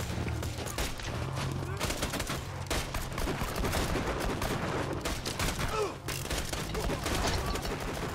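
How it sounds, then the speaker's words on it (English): Gunfire in Borderlands 2 comes from a weapon firing two-round bursts, with rapid repeated shots over busy game sounds, loud and close, as a voice talks underneath. "This gun fires 2 rounds every time."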